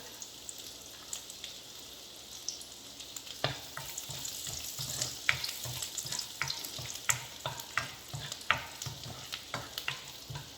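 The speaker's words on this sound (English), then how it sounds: "And add these finely chopped garlic." Finely chopped garlic fries in butter in a curry pan, a soft, steady sizzle with irregular clicks and scrapes of stirring that start a few seconds in, with no voices.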